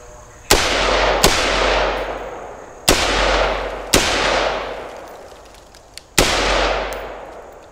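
Carbine rifle fire on a shooting drill range: five loud, sharp shots at irregular intervals, each followed by a long ringing echo tail, with no talking during the string.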